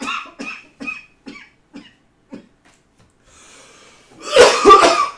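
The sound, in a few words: coughing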